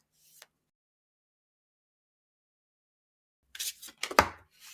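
Tarot cards being shuffled by hand: after a brief rustle and a long silence, a quick cluster of papery riffles and flicks comes close and clear.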